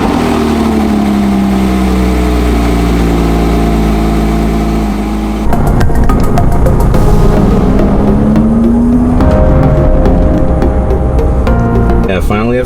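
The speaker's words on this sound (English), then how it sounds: "Porsche, cold start." A Porsche engine cold-starting and running loudly up close, its steady drone climbing in pitch, then shifting abruptly into a rougher, busier roar partway through before changing again near the end.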